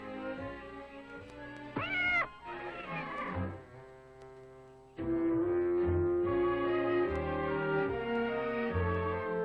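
A lynx kitten meows in a rising, wavering cry near the two-second mark, with more cat calls following over sustained tonal background music.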